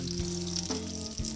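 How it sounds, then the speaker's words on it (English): Fish fries in hot oil, sizzling and crackling steadily with a few soft bumps and clatters, close and fairly loud. "My oil is hot and you wanna hear that sizzle."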